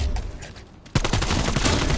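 AK-74U submachine gun firing in a zombie video game: a dense, loud stream of automatic shots that kicks in abruptly after a quieter moment and carries on steadily.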